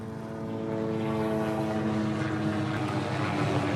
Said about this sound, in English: we have a Southwest heading down to the reef runway